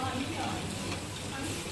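Chicken pieces frying in ghee for a Pakistani tinday gosht curry, giving a steady soft sizzle and crackle with no breaks, faint and close, with no one talking over it.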